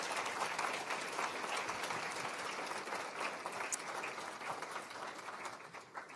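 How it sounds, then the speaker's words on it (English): A conference audience gives a round of applause after a keynote address by a city authority executive, a moderate, even spread of many hands clapping that slowly thins as it goes on. "can we have a hand of applause for David Fine and for Jennifer Musisi"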